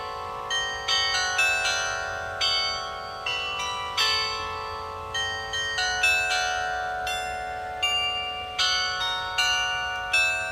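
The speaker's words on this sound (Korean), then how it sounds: "종이 현란하게 움직이기 시작했습니다." A set of bells at the KAIST university campus rings in a lively, irregular cascade of bright metallic strikes. Each chime rings out and decays before the next one lands, with nothing else heard.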